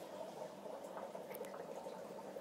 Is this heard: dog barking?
no